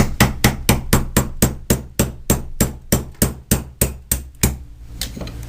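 A hammer strikes an awl again and again to drive the firing pin out of a Ruger 10/22 rifle bolt, about fifteen sharp, evenly spaced metallic taps close up, slowing and fading near the end.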